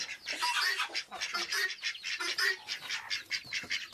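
A yellow hen sitting on her eggs gives repeated close, harsh squawking clucks in quick irregular bursts, loud and alone.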